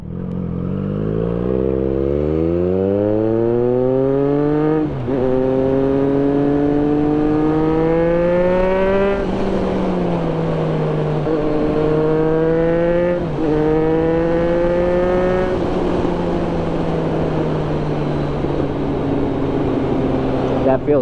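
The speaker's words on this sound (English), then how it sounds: "Laying into the throttle feels so much better than with the stock exhaust." A 2024 Triumph Street Triple motorcycle fitted with an aftermarket exhaust revs hard and climbs through several gears, each upshift marked by a brief dip before the loud, close engine note rises again steadily.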